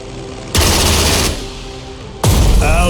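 Two bursts of rapid video game gunfire, the second swelling into an explosive blast as an aircraft is shot down, loud and close with a brief lull between.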